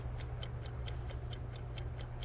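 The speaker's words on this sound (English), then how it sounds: "The ticking noise is a kitchen timer." A kitchen timer ticks quietly in a steady, regular rhythm, about four crisp ticks per second, over a low background hum.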